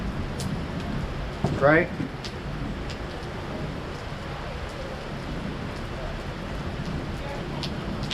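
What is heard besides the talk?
rain falling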